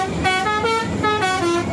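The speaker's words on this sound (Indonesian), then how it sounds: "bus kita sudah dibekali telolet untuk menyenangkan bocil FF di jalanan yang minta telolet om" Musical telolet horn on a bus sounding a bright melodic sequence of several rising and falling tones, loud and close against road and engine noise.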